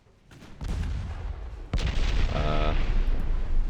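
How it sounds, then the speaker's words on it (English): Torpedo hits bursting against a ship in a 1913-era naval battle game, heard as a sudden heavy boom that swells into a sustained, loud roar and rumble of explosion with a second sharp blast partway through. "We should be getting lots of good torpedo hits on this one."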